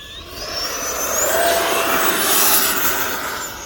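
Freewing F9F Cougar RC model jet in flight, a loud, steady whining rush that swells and eases as the airplane passes, with a high tone gliding in pitch throughout and no talking.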